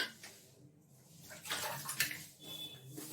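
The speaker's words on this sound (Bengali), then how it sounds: "আগে বাসন কটা ধুয়ে নিই তারপরে।" Tap water runs into a kitchen sink while dishes are washed, a close, hissing splash that swells and dips with clinks of handling over about three seconds.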